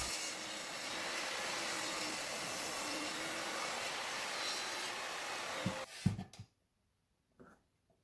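Table saw ripping a wooden board with a loud, steady, roaring whine that runs for nearly six seconds, then cuts off into a few thuds and clatters of the wood before silence.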